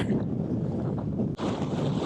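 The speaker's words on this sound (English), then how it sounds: "Quite windy." Strong wind on a Somerset hilltop buffets the microphone in heavy, rumbling gusts, loud and close, briefly dropping out for a moment before roaring back.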